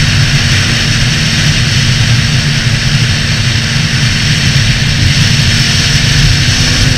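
A Honda CB650F motorcycle is ridden at steady speed, its engine producing a constant loud drone under heavy wind rush, unbroken and close throughout.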